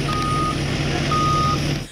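Construction trucks move near a residential intersection with a new subdivision going in, a loud steady engine rumble under two long repeated reversing beeps, ending as the noise drops away.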